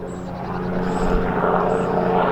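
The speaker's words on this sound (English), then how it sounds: "Got a helicopter going over." A low, steady engine drone of a helicopter passing overhead a campsite, loud and continuous throughout.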